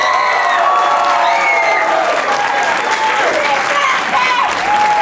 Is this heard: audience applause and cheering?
yes